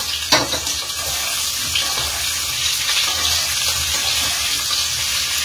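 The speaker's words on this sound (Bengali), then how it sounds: "তেলটা গরম হয়ে গেল, এবার এই সেদ্ধ করা আলুগুলো আমি এর মধ্যে দিয়ে দিলাম" Boiled potatoes hit hot oil in an AGARO nonstick kadai for Kashmiri dum aloo, producing a loud, steady, close sizzle with a brief splash at the start.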